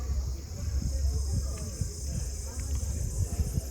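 Insects in a green forest valley near Sabarimala keep up a continuous high, thin chirring drone. Low voices and rustling movement sit underneath it throughout.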